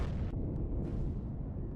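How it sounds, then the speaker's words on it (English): Rocket explosions hitting a turret in the space-survival game Empyrion Galactic Survival: dense overlapping booms and a low rumbling roar, with a few sharper bursts, steady and fairly distant, with no talk. "I think that is multiple explosions"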